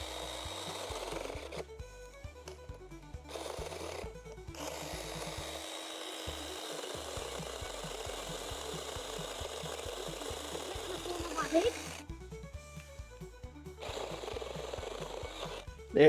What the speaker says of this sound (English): we're going to do a little cut underneath as before